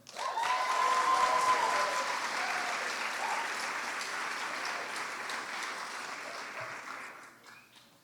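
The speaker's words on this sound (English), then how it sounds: "Got a whole crew cheering you." An audience at a senior awards ceremony applauds steadily for an award recipient, the dense clapping swelling early and then tapering off over about eight seconds, with faint cheering and a brief whistle.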